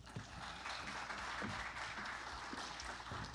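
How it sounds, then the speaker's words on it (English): Faint applause from a conference audience welcoming speaker Hari Horsti to the stage at the HOPE 2022 hacker conference: a soft, diffuse patter of clapping heard from afar, steady throughout with no talking. "Give him a round of applause."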